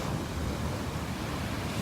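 Sea waves rolling onto a beach in a steady, broad wash of surf, with a churning sea after rain runoff and some wind rumble, continuous and moderately loud with no voices.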